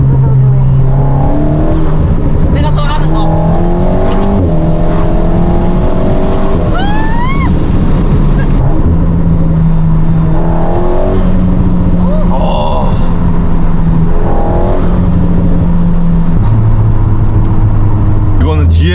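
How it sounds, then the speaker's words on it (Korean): An Alpine A110 Légende GT in sport mode with its exhaust valve open, heard from inside the car with a loud engine drone rising and falling through gear changes while people talk over it throughout. "스포츠로 바꾸면 뒤에서 가변이 열립니다"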